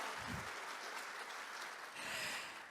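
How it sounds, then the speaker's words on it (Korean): Audience applause at a Korean defense-industry forum opening ceremony, a dense, faint wash of clapping from a large hall that swells again near the end. "여러분 힘찬 응원의 박수 한번 부탁을 드리겠습니다"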